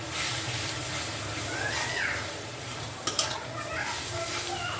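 Spiced food fries with a low steady sizzle in a pan while being stirred, a few sharp metallic scrapes and clinks of the spoon rising briefly above the frying.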